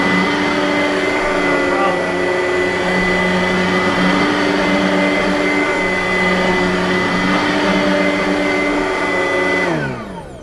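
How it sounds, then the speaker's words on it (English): A Simplicity Riccar R10 vacuum cleaner runs loud and steady at close range with a constant motor whine for about ten seconds, then begins to power down at the very end. "Now if I put that hair in front of the vacuum,"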